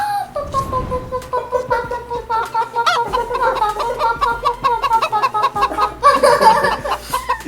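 A voice imitates a chicken clucking, with a rapid run of nasal, rhythmic clucks that swell louder near the end, mixed with some laughter.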